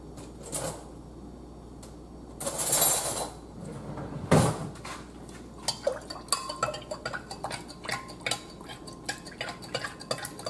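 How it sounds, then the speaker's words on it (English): Metal spoon stirring a pink senorita drink in a glass, heard as a series of light, rapid clinks and scrapes against the glass after a few earlier knocks and rustles, fairly close. "I'm going to get a spoon and we're going to get that stirred."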